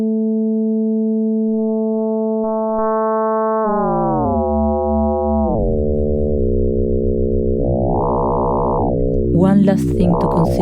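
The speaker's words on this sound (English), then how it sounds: "If we want to generate more inharmonic sounds, we can just use more strange and complex ratios." A synthesized FM tone of sine operators set to complex ratios sweeps and bends through shifting pitches, grows buzzy and inharmonic, and ends with clustered metallic partials, loud and alone.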